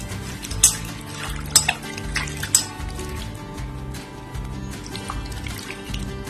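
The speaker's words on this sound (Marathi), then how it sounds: "याच्यात आपण थोडं पाणी आणि मीठ टाकू" Water splashes and trickles into a bowl of sliced sweet potato chips with salt, with a few sharp clinks and drips, close by, in short uneven bursts.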